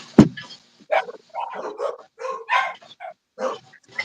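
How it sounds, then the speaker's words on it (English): Dogs bark and yip in a quick run of sharp, separate bursts, close and fairly loud, with short gaps between them and no talking. "Dogs going crazy."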